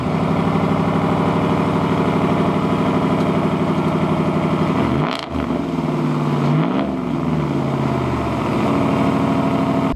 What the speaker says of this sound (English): it has that V8 exhaust note